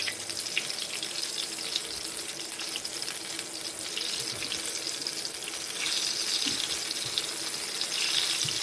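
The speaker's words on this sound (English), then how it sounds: "Clean my hands a bit." A kitchen tap runs steadily while hands are washed underneath it, a continuous close splashing hiss that carries on without pause and with no speech.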